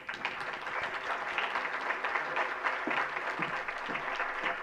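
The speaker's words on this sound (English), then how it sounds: "Please an applause to Ms." An audience at an agricultural finance congress claps steadily for an honoured speaker, the applause even and moderately loud from start to finish.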